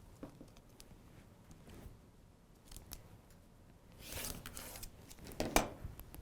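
A sewn quilt block made from two joined fabric squares is trimmed: soft, faint cuts and fabric handling, rising to a louder burst of cutting near the end, close up and without talk.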